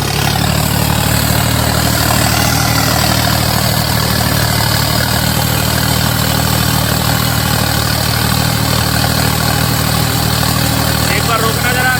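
Loud, steady drone of a Swaraj 855 4x4 turbo tractor engine working under load, a continuous heavy rumble with no pauses, close up throughout.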